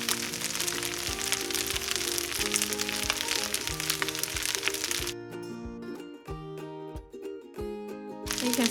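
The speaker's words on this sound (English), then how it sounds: "continue to fry it until the potatoes are done" Potatoes and noodles frying in melted butter give a steady, dense crackle and sizzle, close by, with a faint musical tone running underneath.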